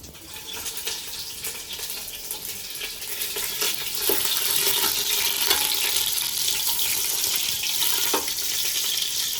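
Butter melts into hot oil with cinnamon, cloves, bay leaf and cardamom for mushroom pulao, a steady sizzling hiss that swells midway, with soft crackles and pops and no talking.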